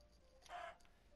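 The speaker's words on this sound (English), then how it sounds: "Come on, chicken." A chicken in the video game Minecraft gives a single short, faint cluck amid quiet game background sound.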